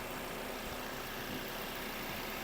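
A 2020 Volkswagen Passat B8 with a 2.0 TSI engine idles under the hood, giving a faint, steady hum with hiss and no change in pace.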